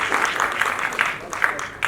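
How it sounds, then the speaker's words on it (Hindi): Applause from an audience at an awards ceremony, honoring Jyoti Mane and her team; a steady patter of clapping with a few sharper claps, mid-distance, without talk. "एक बार ज्योति मैम के लिए और उनके टीम के लिए एक बार जोरदार ताली होनी चाहिए"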